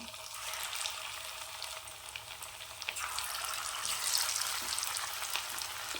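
Chicken pieces for chilli chicken (chicken 65) fry in hot oil with a steady, close crackling sizzle that swells slightly midway, with no talking over it.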